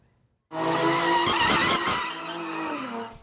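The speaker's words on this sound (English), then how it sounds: "The screaming brakes, the revving engines." Tires screech and engines rev at an illegal street sideshow on valley streets, a loud sustained squeal with roaring motors starting abruptly and continuing to the end.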